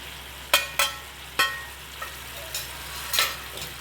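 Spices are stirred into a tangy aamla chutney bubbling in a pan, with a faint simmering hiss behind a handful of sharp spoon clinks and scrapes against the vessel.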